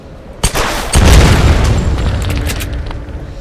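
A mine blown up by gunfire in the Tomb Raider video game: a sharp shot followed by a loud, deep booming explosion that rumbles and slowly fades over a few seconds.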